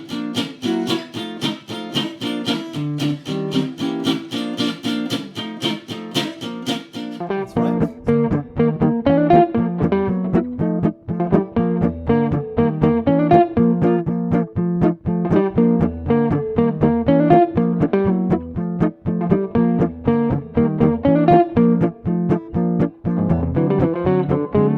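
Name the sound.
rhythm changes blues chord progression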